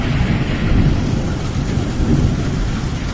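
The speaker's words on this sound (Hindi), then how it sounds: "पानी तो कम गिर रहा है पर बादल ज़्यादा गरज रहे हैं।" Deep, continuous rumbling of thunder rolling through light rain in a village, loud and close throughout with no voices.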